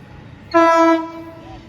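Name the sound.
Sydney train passing with horn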